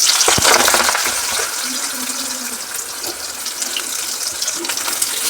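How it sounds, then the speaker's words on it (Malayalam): Pieces of jackfruit seed pith dropped into hot oil give a steady, close crackling sizzle with a few sharper pops, running without speech throughout. "ചൂടായി വന്ന എണ്ണയിലേക്ക് നമുക്കിത് ഇട്ട് കൊടുക്കാം"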